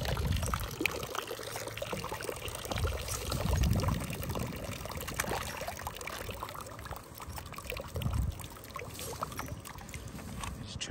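Water pours and splashes in uneven gushes from a litter bag, trickling between louder surges, close by and continuous with no talking.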